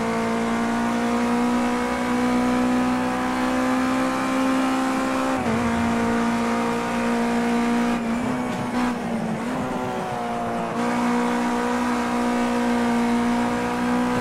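A race car in Project Cars 2 holds a steady, loud high-revving engine drone on an uphill section, briefly dipping around shifts midway, with no voices heard.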